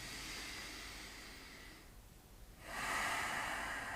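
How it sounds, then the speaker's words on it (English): Slow, deep yoga breathing: a long airy exhale, a brief lull, then a fuller inhale. It is soft and close with no talking. "let's take a few moments here and breathe"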